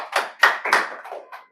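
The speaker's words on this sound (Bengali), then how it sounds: "ওর জন্য জোরে হাততালি দাও" Five short, sharp hand claps in an uneven rhythm, fairly close and fading slightly toward the end, during a playful tongue-twister challenge game.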